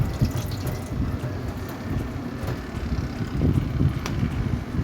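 Water pours and splashes steadily as it is drained off lightly boiled potatoes in a home kitchen, a continuous rushing wash with no talking.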